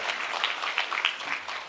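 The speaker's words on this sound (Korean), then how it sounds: "여러분 큰 박수로 맞이해 주시기 바랍니다" Audience applause welcoming the chair of a Seoul city party committee at a party members' debate forum, a short steady patter of clapping from a crowd with no talk over it.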